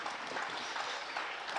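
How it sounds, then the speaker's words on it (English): Spectators applauding at a county cricket match between Essex and Surrey, a steady patter of clapping from a distant crowd, unbroken through the moment. "There's your applause."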